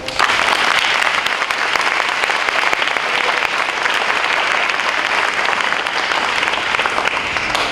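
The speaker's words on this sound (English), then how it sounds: "would you please join me in giving our wonderful and promotional graduates a big round of applause" A big round of applause from the audience for adult basic education graduates fills the whole stretch, dense and even, with no talking over it.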